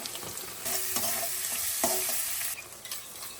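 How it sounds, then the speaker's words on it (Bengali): Onion with garlic, ginger, coriander, cumin, dried chilli and turmeric paste sautéed for mutton curry: a steady close sizzle with a few sharp spatula scrapes against the pan, then the frying fades slightly toward the end. "এবার ফোড়ন করে নেবো আর মশলা কষিয়ে নেবো।"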